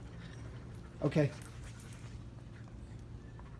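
A German Shepherd gives a short burst of whimpering and yipping near the start, followed by faint panting, over low background noise while a person says a brief word.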